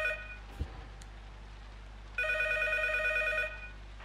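A telephone in the horror game P.T. (Silent Hills) rings in a steady electronic trill for over a second after a brief click, over a constant low hum with no talking.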